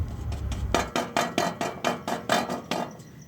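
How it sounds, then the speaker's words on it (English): A destroyed catalytic converter from a Subaru FB engine being shaken, its loose internal honeycomb knocking in about a dozen sharp, rhythmic metallic clunks, close and clear with no talking. "something's rattling in here, and I'm thinking it's that big honeycomb, rare earth metal blob that's in there"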